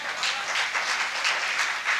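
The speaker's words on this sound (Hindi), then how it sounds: "पहली लाइन ताली चाहती थी आपसे" An audience at a Hindi kavi sammelan poetry recital applauds, a steady wash of many hands clapping together, moderately loud and slightly distant, without speech.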